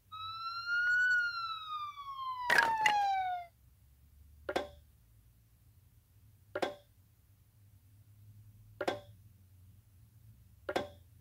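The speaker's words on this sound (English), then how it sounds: "Ambulance." Ambulance siren effect from a children's puzzle game: a short, bright, downward-sweeping siren wail, then a sharp burst and four evenly spaced clicks, clear and close with no voices.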